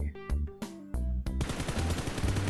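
Gunfire in the mobile game PUBG Mobile: a few loud separate shots give way to a rapid, continuous automatic burst, all close and punchy with no talk.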